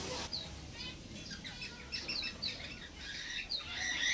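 Pet canaries and other small birds chirping near their nest, with quick high tweets scattered throughout over a steady background hiss, moderately faint and close.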